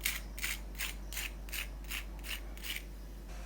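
Crispy fried suji aloo tea-time snacks crunching in eight evenly spaced crisp bursts, close and fairly loud over a low steady hum, with no talking.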